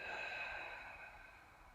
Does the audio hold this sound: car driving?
no